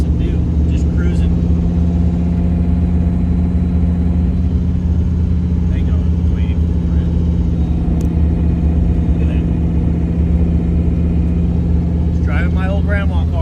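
An old car cruising on a road, a constant loud low engine drone and road rumble filling the whole stretch, with brief faint voices now and then.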